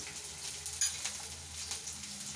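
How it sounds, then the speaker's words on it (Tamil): Garlic frying in oil in a pan for a curry-leaf thokku, giving a faint, steady, soft sizzle with a light clink partway through and no voices. "நான் பூண்டு சேர்த்துக்கிறேன். இது கொஞ்சம் நல்லா வந்து பொன்னிறமாக ஃப்ரை பண்ணி வரட்டும்."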